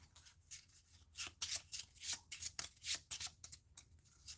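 A deck of playing cards shuffled by hand in a solo card game: repeated crisp riffling bursts in a quick uneven rhythm, close and fairly quiet, with no talking.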